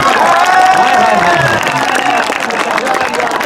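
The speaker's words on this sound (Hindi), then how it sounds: "क्या बात है यार ताली मारो गुज्जर की ताली मारो" A large crowd claps and cheers at an open kabaddi match, with loud, dense, continuous applause and shouting swelling around an announcer's excited voice.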